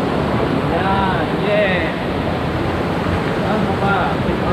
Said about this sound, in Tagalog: yun na pala yung falls, no?